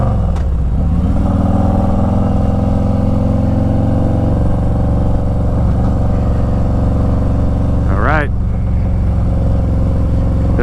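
A Harley-Davidson Street Glide Special FLHXS motorcycle accelerates on an interstate, its loud engine droning steadily with rising pitch and a brief revving surge near the end, heavy wind and road noise throughout.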